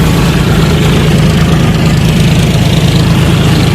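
A tractor engine idles nearby on a farm during pea threshing, a loud, steady low rumble with constant vibration and no break across the few seconds.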